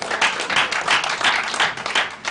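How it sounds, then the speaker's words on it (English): An audience at a gathering on women's leadership claps in a short, fairly close burst of uneven, overlapping hand claps. "I thought you all would clap for yourself."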